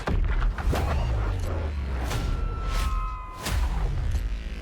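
Booming explosions and swishing whooshes from a video game trailer shown at the Game Awards 2024, loud and continuous over a layered soundtrack, with several sharp bursts.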